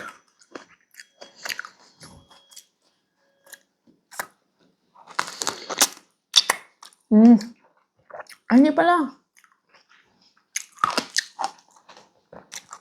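Crisp bites and wet chewing of fresh blackberries, first tart and then sweet and juicy, come in short bursts close to the mouth, with someone talking between bites.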